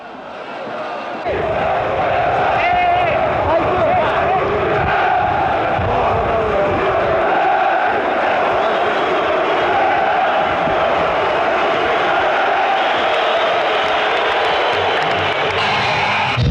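Fenerbahçe supporters roar and cheer in Şükrü Saracoğlu Stadium after a late winning goal against Ankaragücü in the 1998-99 season, a loud, sustained crowd din of chanting and shouting that swells in after a brief quieter opening.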